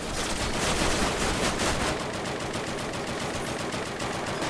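Sustained automatic gunfire in a Call of Duty airfield defence battle, dense overlapping shots that roar for a couple of seconds and then thin into a fast, rattling stream of rounds, loud and continuous without speech.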